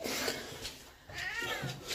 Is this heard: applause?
no